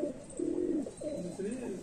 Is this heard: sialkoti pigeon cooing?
yes